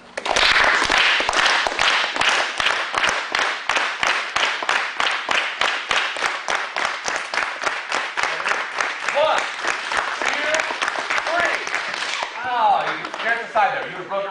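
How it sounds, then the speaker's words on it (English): Single sharp hand claps repeat in a steady, fast rhythm for about twelve seconds during a jujitsu black belt test, loud and close, then stop while a voice speaks briefly at the end. "Clap."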